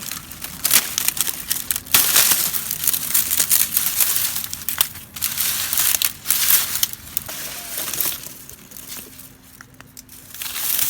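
Sugarcane being cut near the soil in an Arizona garden, a run of close, rough crunching and crackling snaps as the tough cane and dry leaves are pruned, uneven bursts with short pauses between.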